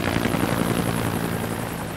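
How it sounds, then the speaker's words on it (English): A helicopter's rotor chops in a continuous, fairly near thumping whir over a low engine drone, with no talking. "He was rushed outside where a helicopter waited to transport him to the hospital."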